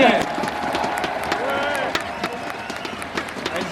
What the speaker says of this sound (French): je demande s'il vous plaît d'applaudir le président directeur général de Nadeo, monsieur Florent Castelnerac